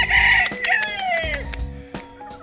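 A White Kelso gamefowl rooster crows loudly and close by in one full crow, followed by a few short clucking notes, with no voices.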